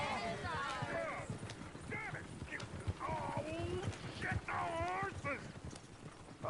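Horse hooves clip-clop in Red Dead Redemption 2, a loose run of knocking steps with an occasional snort or whinny, partly under people talking nearby.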